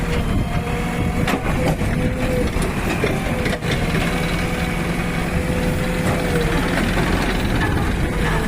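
A New Holland tractor engine idles with a steady, loud low rumble and rhythmic knocking, running close by without pause.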